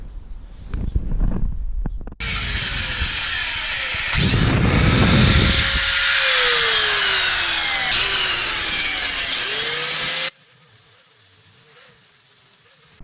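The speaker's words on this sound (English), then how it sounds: "I would not recommend a grinder." Angle grinder cutting through a metal go-kart frame built from a 212cc quad, a harsh, loud, steady screech lasting about eight seconds close up, then the motor winding down and a low hum.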